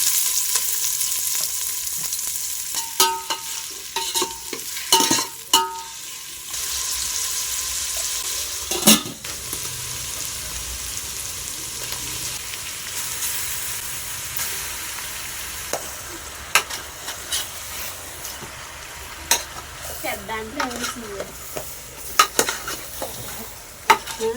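Chicken fry sizzles steadily in a pan during home cooking, with a spoon repeatedly scraping and stirring and occasional clinks of metal on the pan, close and clear with no talk.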